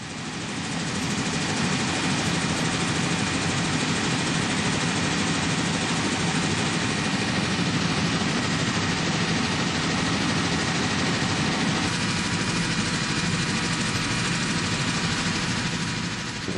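Helicopter flying over Victoria Falls on the Zambia–Zimbabwe border, heard from the cabin: a constant, loud engine and rotor drone that holds unchanged throughout with no talk.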